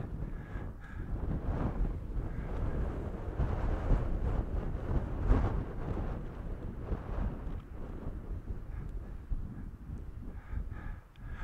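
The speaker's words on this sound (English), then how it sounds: "now we're just battling against the wind to get back to the car" Strong wind on a hilltop in the North Pennines buffets the microphone in a constant low roaring rumble that surges and eases without a break.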